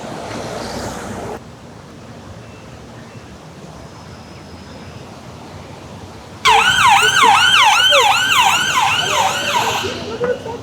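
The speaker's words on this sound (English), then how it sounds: "I would say this is a constant sound of Kennington. Sirens." Emergency vehicle sirens on a street in Kennington, London, a loud wailing siren sweeping up and down in repeated cycles that bursts in over quieter traffic ambience and stays prominent to the end.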